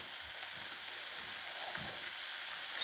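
Shredded cheddar cheese being stirred into a breakfast casserole: soft, quiet scraping strokes over a steady faint hiss, with no voices.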